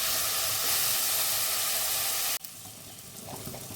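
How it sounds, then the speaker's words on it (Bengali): A spice paste of ginger, garlic, green chilli and onion fries with vegetables in a pan, with Kashmiri chilli and coriander powder added. A loud, close sizzling hiss drops abruptly partway through, then a quieter sizzle continues. "মশলাটাকে একটু ভেজে নিচ্ছি"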